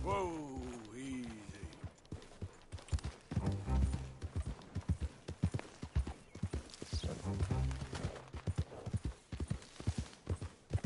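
Horse hooves clip-clop steadily in the video game Red Dead Redemption 2, under someone talking, with a brief whinny near the start.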